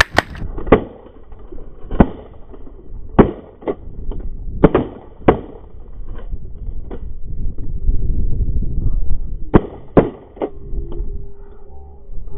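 Shotguns fire again and again during a spring snow goose hunt in South Dakota, with about a dozen sharp, close blasts coming in quick bursts and scattered single shots over a low rumble of wind.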